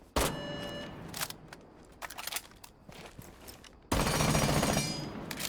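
An SMG-11 submachine gun in Rainbow Six Siege fires in rapid bursts, first a loud opening stream, then scattered shots and footsteps, and finally a sustained dense burst of fire at close range.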